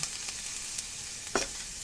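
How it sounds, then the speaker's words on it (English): Kale sautés without oil in a cast iron pan, giving a faint, steady sizzle with a brief louder scrape of stirring partway through. "Okay, so I'm just going to saute this up a little."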